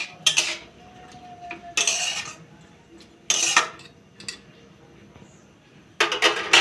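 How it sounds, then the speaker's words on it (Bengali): Fried dheki greens stirred in a pan, loud metal spatula scrapes and clinks in separate bursts with quiet gaps between, close up, no talking. "এটাকে এবার নাড়াচাড়া করে"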